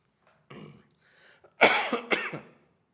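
A short burst of throaty coughing, two or three harsh coughs in quick succession after a few soft breathy sounds, fairly close.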